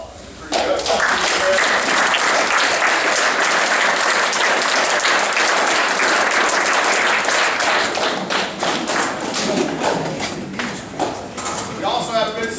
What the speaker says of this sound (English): why don't you stand up and give your folks a round of applause